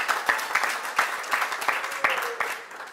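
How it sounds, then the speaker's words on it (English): Scattered clapping from a political campaign rally crowd, a few dozen sharp claps spread irregularly over a few seconds, moderately loud and fairly close. "Give her a great big round of applause."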